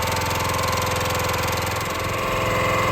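A small firewood-cutting engine, choke on and throttle at half, idles steadily while warming up, a close, loud, continuous rough putter with a slight knock and vibration and no voices.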